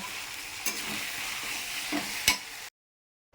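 Curry is sautéed and stirred in a pan: a steady soft sizzle with a few scraping spoon strokes, close by, before the sound cuts to silence near the end.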